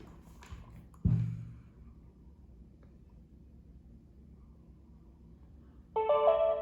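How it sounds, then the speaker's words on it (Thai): An INZEUS Robot Indoor Camera being reset gives a dull knock early on, then after a quiet pause a short electronic beep tone sounds near the end, close and clear against faint background hiss. "จะมีเสียงตึ้งๆนะครับ เพื่อบอกว่าตัวกล้องกำลังรีเซ็ตแล้วนะครับ"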